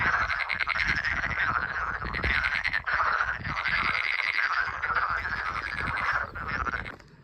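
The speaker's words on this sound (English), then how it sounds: "Otherwise, I think it's just a lot of frogs." A large chorus of frogs croaks continuously at night near the Spanish village of Foncebadón on the Camino de Santiago, a dense pulsing rasp that stays steady and loud throughout.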